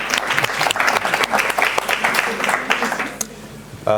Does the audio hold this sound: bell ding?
no